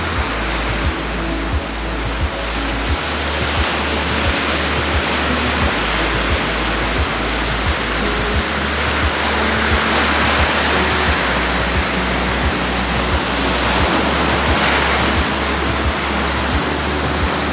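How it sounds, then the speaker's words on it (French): Ocean waves break against rocks on the Tenerife coast, a loud, constant roaring wash of surf with a rumbling low pulse beneath it and no voices. "Et j'aime trop aussi quand les vagues elles s'écrasent en fait"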